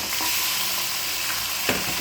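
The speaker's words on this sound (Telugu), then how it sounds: "ఆనియన్స్ లైట్ బ్రౌన్ కలర్ వచ్చేసినాయి కదండి. నేను చికెన్ వేసేస్తున్నాను." Steady, loud sizzling as 1 kg of unmarinated chicken hits light-brown frying onions in a pan, a continuous hiss with faint stirring scrapes and no talking.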